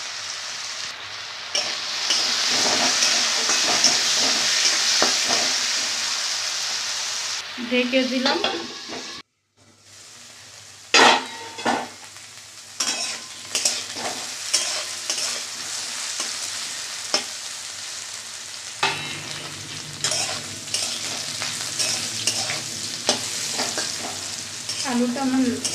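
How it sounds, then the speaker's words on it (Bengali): Diced potatoes with salt and turmeric hiss loudly in hot oil, then after a brief pause and a lid being set down, repeated spatula scrapes and stirs clatter over a steady sizzle; a voice speaks briefly. "এবার আলুটা আমি ভেজে নেব। অল্প লবণ দিলাম ভাজার জন্য, একটু হলুদ দিলাম"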